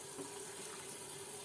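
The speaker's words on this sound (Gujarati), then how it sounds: "હવે તેમાં આપણે અડધો ગ્લાસ પાણી નાખી દઈએ।" Half a glass of water is poured into a bowl of gram flour, making a soft, steady trickling gush that is faint and continuous, with no talking.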